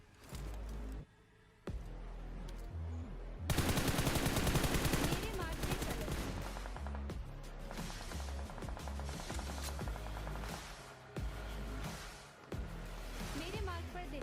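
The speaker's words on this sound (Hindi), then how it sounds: "लेकिन तभी फायर होने लगा" A video game firefight brings loud, dense bursts of rapid automatic gunfire and single shots, with short gaps between volleys, while a voice talks over the action.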